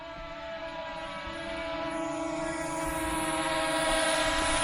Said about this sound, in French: le drone tourne autour d'un point